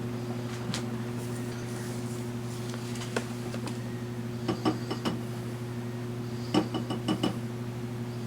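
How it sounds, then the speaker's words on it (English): Spoon scraping and clinking against a bowl while tartar sauce with relish is stirred, a few sharp clinks scattered over a steady low kitchen hum, close and moderately loud. "I'll mix it up a little bit more."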